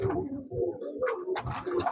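Pigeons cooing at a pigeon club, several close, low throaty coos in repeated pulses, with a few brighter bird calls overlapping.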